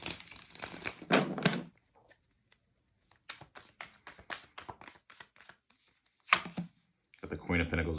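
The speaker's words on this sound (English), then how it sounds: "I should probably shuffle again." Tarot cards being shuffled in quick rustling bursts, with a run of light riffling clicks in the middle and another papery flurry at the end.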